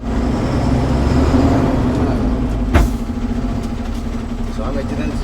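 A lorry being loaded with fish for Bihar rumbles steadily close by, with a sharp burst of air-brake hiss partway through, while people talk over the engine noise.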